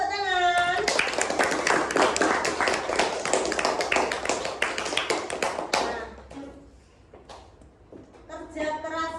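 Children clapping together in a classroom during a Grade 4 lesson, a steady loud burst of many small hands for about six seconds that then stops, with a teacher's voice speaking before and after.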